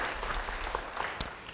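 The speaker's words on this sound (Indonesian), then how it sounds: "Yang percaya, beri tepuk tangan bagi dia." A church congregation claps briefly and softly, with scattered light applause quickly fading during a preacher's sermon.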